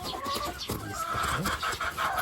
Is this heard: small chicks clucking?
yes